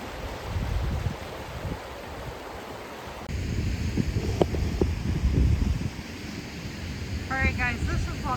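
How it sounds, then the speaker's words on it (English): Broadband rushing water from a waterfall right beside a riverbank walking trail, loud and continuous with a dip partway through, swelling again with some wind buffeting and faint voices mixed in. "I know it's probably loud, I'm standing really close. Look at that waterfall."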